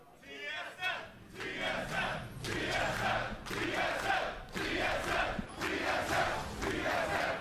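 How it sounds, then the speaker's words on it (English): An esports arena crowd at the 2015 NA LCS Spring Playoffs semifinals chants for TSM in loud, rhythmic repeated shouts, a large roaring audience filling the space. "TSM chants always strong here"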